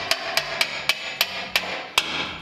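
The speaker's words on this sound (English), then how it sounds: "you should be able to push it or just tap it lightly with a hammer" A hammer lightly taps a steering rack bushing on a Toyota Tacoma or 4Runner: seven sharp metallic strikes at an uneven pace over a low background hum, with no talking.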